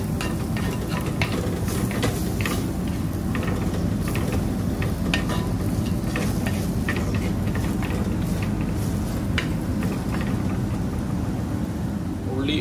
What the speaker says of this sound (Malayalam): ഒന്ന് വാടുന്ന വരെ നല്ലോണം ഇളക്കി കൊടുക്കും